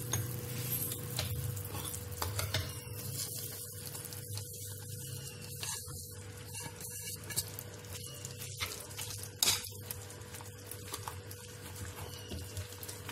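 A spoon stirs ground peanuts with vanilla essence in a pan, with soft scraping and faint sizzling under a steady low background hum.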